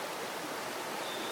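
River water flowing in a stream, a steady broadband rush that stays even and fairly loud throughout with no voices.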